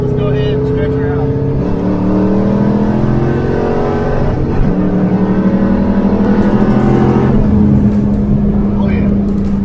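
Ford Foxbody Mustang running Megasquirt engine management pulls hard under full throttle, its engine note climbing steadily in pitch for several seconds, loud and close, before easing and climbing again as it shifts through gears.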